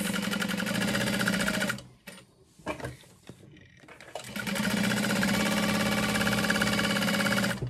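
A sewing machine basting around the open sides of flat-laid handbag pieces, running in two steady, loud bursts of rapid stitching separated by a short pause with light handling noises.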